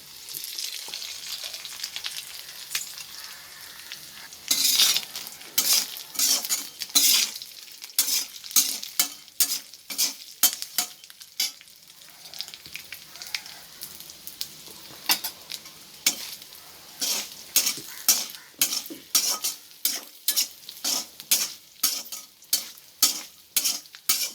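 Anchovy dry fish frying in a pan while being stirred, with a steady sizzle under repeated sharp scrapes and clanks of the utensil against the pan, rhythmic and close, no talking.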